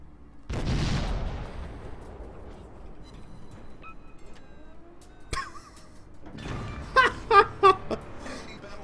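Warship guns fire in a naval combat video game: a heavy booming blast early on, a sharp single report midway, then a quick cluster of three or four rapid shots near the end, with no talking.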